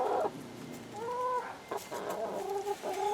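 Several chickens cluck and murmur in a backyard chicken run, their calls rising and falling in short bursts, close by and fairly soft, with no talking over them.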